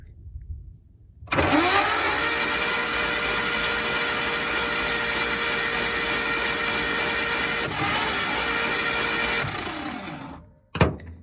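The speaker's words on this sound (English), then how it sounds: "Now I'll just give her a crank, dry the cylinders out a little bit." A 1956 Dodge H6 truck engine cranks over with its spark plugs out, a loud, steady mechanical churn that runs about nine seconds without catching, then cuts off, followed by a brief knock.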